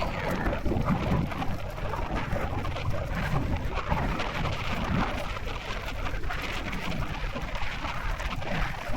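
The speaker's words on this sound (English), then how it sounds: "Oh, it's blowing. It's blowing like a banshee here." Strong wind blows at a waterfront on Long Island, a steady, loud roar and rumble buffeting the microphone without a break.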